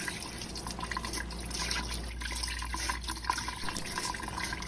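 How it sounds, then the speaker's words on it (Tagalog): Quiet running water rinses chicken liver and heart, a steady faint trickle and splash over a low hum with no voices. "Isunod naman natin hugasan ang atay at puso."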